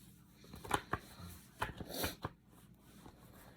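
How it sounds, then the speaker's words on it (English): Tarot cards being shuffled in a few quick riffling bursts, soft and close, with faint low murmuring in the background. "Let's give it one more shuffle"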